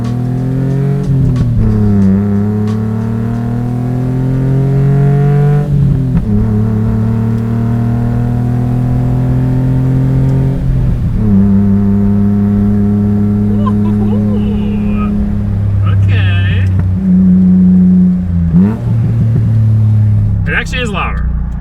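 A kei car powered by a motorcycle engine, fitted with a homemade exhaust, drives and revs hard, its pitch climbing through repeated gear changes with loud rasping pulls and brief dips between shifts.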